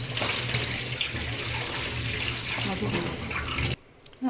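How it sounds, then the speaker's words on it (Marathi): Water poured off the top of ground rice batter that soaked overnight, making a steady close splashing stream for several seconds before it stops abruptly. "वरचं पाणी ओतून द्यायचं."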